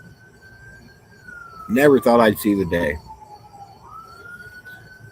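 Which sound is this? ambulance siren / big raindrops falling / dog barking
ambulance siren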